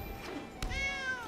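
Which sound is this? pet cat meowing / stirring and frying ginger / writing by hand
pet cat meowing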